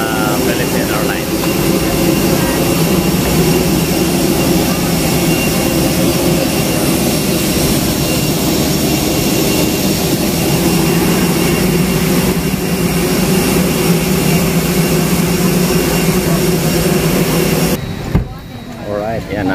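Jet aircraft engines of a Philippine Airlines plane during boarding, a loud, steady whine and rumble that runs almost without a break before cutting off near the end.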